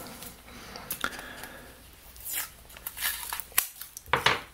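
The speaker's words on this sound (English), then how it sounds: "I just get my scissors and cut them to size." Scissors snip through cardboard being cut to size for shipping sports cards, a few sharp, close cuts and crisp scrapes separated by short pauses in a quiet room.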